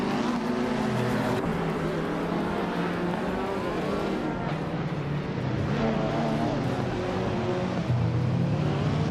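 Race car engines roar together at the start of a Los Arcos rallycross race in a video game, with a 2016 BMW M4 GTS on pole; a loud, continuous layered drone of revving motors that shifts in pitch as cars pull away.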